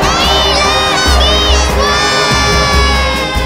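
Lively indoor crowd at a children's event, kids shouting and cheering in a dense, continuous din with shrill voices rising and falling throughout.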